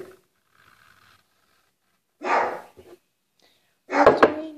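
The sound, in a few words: dog barking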